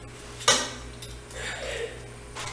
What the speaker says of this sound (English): if y'all hear some noise, our youngest daughter's washing dishes